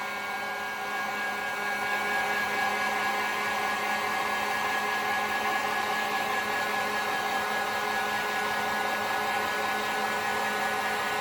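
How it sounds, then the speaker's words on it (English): A steady, loud blowing roar runs continuously, like a heat gun held close while drying a clay coil vessel, with no voices over it. "I'm going to hit this with the heat gun"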